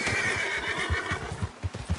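A horse whinnies in a long, high, wavering neigh, close and loud, while its hooves thud in a steady beat underneath, with no voices.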